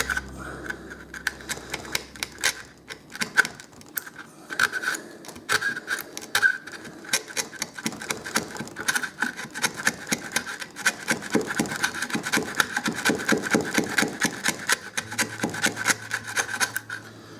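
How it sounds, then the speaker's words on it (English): A chisel carves the wood of a cheap electric guitar body by hand, producing a dense, uneven run of close scraping and chipping ticks that builds slightly louder toward the end, with no voice. "I can get my smaller chisel and work in the detailed sections"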